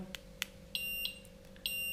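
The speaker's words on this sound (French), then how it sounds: "c'est bien une centrale d'alarme intérieure qui fonctionne comme les autres, avec une télécommande" Somfy indoor alarm control unit emitting short high-pitched electronic beeps in an irregular series over a steady low hum, close and fairly faint in a quiet room.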